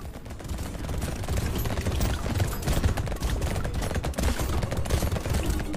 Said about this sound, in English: Also, when shooting this fast.